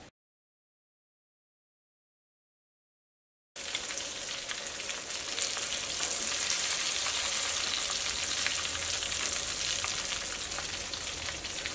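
Chicken pieces frying in hot oil for a Kerala chicken roast, giving a loud, steady, close sizzle that runs on without a break after a few seconds of silence, with no voices over it.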